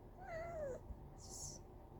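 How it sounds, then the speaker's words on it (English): A cat meows once with a drawn-out, falling cry, followed by a faint high squeak, heard indoors over low room noise. "Stop. Fucking cat."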